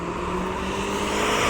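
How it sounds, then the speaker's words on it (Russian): A car passes by near a Japanese Kubota GL350 mini tractor, giving a steady, fairly loud engine and tire rush that swells toward the end. "Проносится у нас здесь мимо автомобиля"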